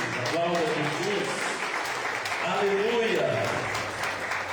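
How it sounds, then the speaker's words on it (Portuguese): A church congregation applauding during a Portuguese-language service, steady broadband clapping throughout with a voice speaking and calling out over it. "Aplauda Jesus,"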